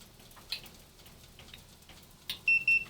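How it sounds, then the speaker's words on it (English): Short high electronic beeps, two or three in quick succession, ring out clearly over a quiet background with a few faint clicks before them. "Both of them are going off. The light just came on. The handheld is beeping and cooking complete."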